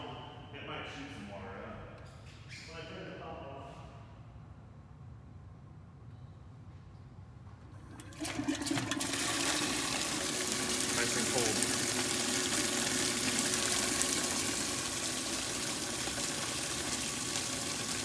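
An ice-water cooling cart pump for a 50th Anniversary COPO Camaro intercooler switches on partway through, starting a loud, steady rushing hiss of circulating water after some quiet speech and handling sounds.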